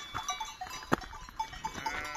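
Sheep with bells on an Alpine mountainside, faint tinkling bells and soft scattered bleats at a distance, with one louder clank in the middle.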